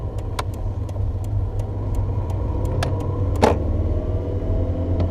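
A manual car pulling away in second gear, with a steady low engine drone from inside the cabin, light ticking clicks scattered over it and a brief louder rattle midway.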